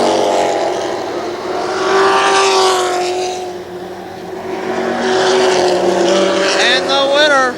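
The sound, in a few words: race cars racing on the speedway track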